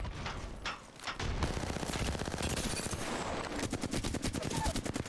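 Dense automatic gunfire roars in an Apex Legends match as the player comes under fire, with sustained rapid bursts and sharp cracks packed close and loud throughout, a brief lull early, then heavy fire continuing.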